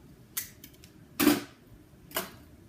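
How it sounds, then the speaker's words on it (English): Cutters snip off excess alarm wires during a 2GIG security panel install: three sharp, close clicks with pauses between them, the middle cut loudest. "cut off our excess wires"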